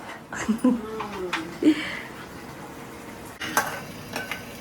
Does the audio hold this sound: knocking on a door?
no